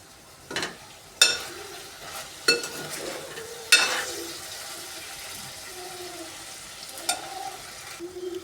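Prawns frying in a pan while being stirred, a low sizzle running throughout with several sharp clatters of the spoon against the pan, close up and with no talking.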